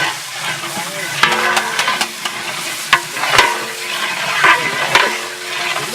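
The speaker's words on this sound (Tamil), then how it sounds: "போட்ட வெங்காயம் தக்காளி நல்லா வதங்கிடுச்சு" Onion and tomato masala sautés in a pan for turkey biryani, giving a steady close sizzle broken by sharp clinks and scrapes of a stirring spoon, with faint voices now and then.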